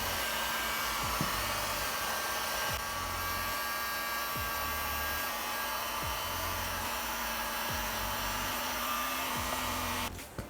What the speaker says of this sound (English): So I'm going to use a little bit of a heat gun, see if I can warm it up and hopefully remove it.